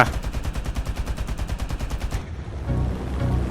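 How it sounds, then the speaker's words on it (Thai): Defensive guns on a Tu-4 bomber in the combat game War Thunder fire a steady, rapid rattling burst for about two seconds and then stop, over a constant droning piston engine and propeller hum. "ผมยิงหนักนะ ด้วยไฟเรทก็ร้อยของเรานะครับ"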